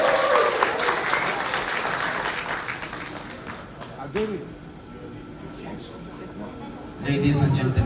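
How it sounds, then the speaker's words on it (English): Audience clapping at a corporate anniversary event, a loud wash of applause that fades to scattered claps, with voices over it, then swells again at the end. "Guys, can you give more applause, please?"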